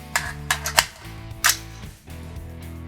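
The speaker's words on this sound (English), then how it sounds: "I've made my turret adjustment" A handful of sharp mechanical clicks from the turret of a Swampfox Tomahawk LPVO rifle scope being adjusted, several quick close snaps in an irregular cluster over a low steady hum.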